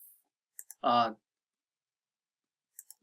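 A computer mouse clicks crisply up close, a quick pair of clicks followed later by another pair, with a brief spoken word between them in an otherwise quiet room.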